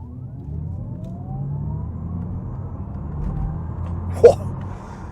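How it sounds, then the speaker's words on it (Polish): Audi e-tron GT electric car launching hard from a standstill: a thin electric whine rises in pitch over a low road rumble, with a short sharp knock near the end. "Lewa noga na hamulcu, prawa noga pedał gazu, pam!"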